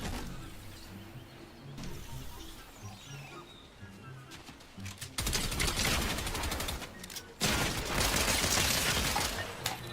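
Video game gunfire bursts out in dense, loud volleys after a quieter opening with background sound, rattling continuously near the end.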